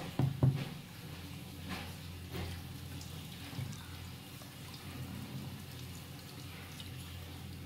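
Soaked black lentils being rinsed by hand in water, with soft sloshing and splashes, a louder burst of water near the start and then steady low trickling and dripping, close by with no talk.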